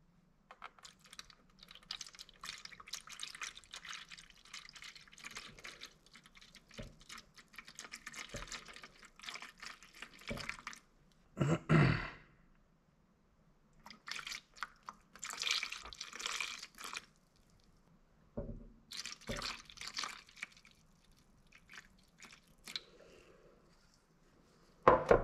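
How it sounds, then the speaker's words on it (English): Carbon-cleaning cam dip liquid is poured slowly over engine pistons, giving intermittent trickling and dripping bursts with quiet gaps between them, fairly close and soft. "Okay, so I've got the cam dip ready, and I'm going to start pouring it in nice and slow."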